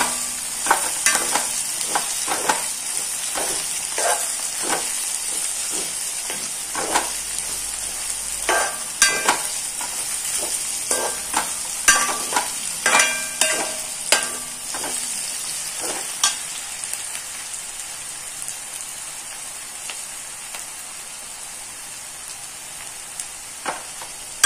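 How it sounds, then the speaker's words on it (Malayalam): Ginger paste fries in a pan for fish curry while being stirred, with quick repeated spoon scrapes and knocks over a steady sizzle; the stirring stops partway and only a quieter sizzle remains. "ഇഞ്ചി കൊടുക്കുമ്പോൾ അടിയിൽ പിടിക്കാൻ സാധ്യത, അതുകൊണ്ട് എപ്പോഴും ഇളക്കി കൊടുക്കണം."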